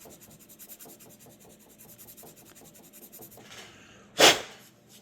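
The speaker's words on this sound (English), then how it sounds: "I'll sand it down ever so slightly." Sandpaper rubbing a small plastic model kit part smooth for a 1/72 Mechanicore Tiefstrumer base, close and quiet, in a steady back-and-forth rasping rhythm, ending in a louder scrape or brush.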